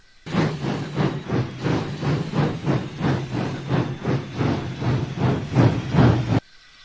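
Steady rhythmic chuffing of a video game steam locomotive, rapid even puffs over a hissing hum, loud and continuous before cutting off abruptly.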